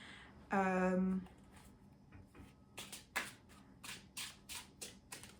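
A tarot card deck is shuffled by hand close up, giving a series of soft riffling, flapping bursts after a brief tonal hum at the start.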